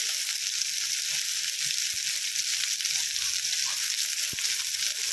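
Sliced sweet potato frying in oil in a pan for a mixed vegetable dish, a constant loud sizzle with faint stirring ticks underneath.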